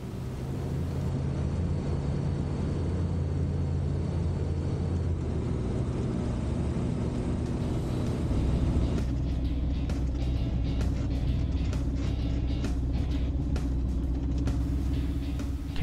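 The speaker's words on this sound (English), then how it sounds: "Taxiing in to a standstill" An aircraft taxiing along a runway to a standstill, a steady loud low engine rumble and drone that shifts pitch partway through, with rattling knocks later on.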